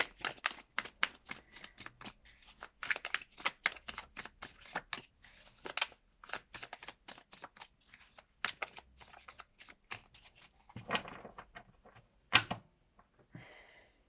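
Tarot cards are shuffled by hand in a quiet room, a long run of crisp riffling flicks and soft slides, steady at first, then in looser bursts with a few louder snaps, no talking.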